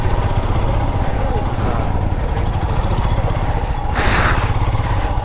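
Motorcycle engines drone and putter continuously while bikes squeeze through a traffic jam on a mountain road in Ladakh between Pangong and Leh, with a brief louder burst of wind or engine noise partway through.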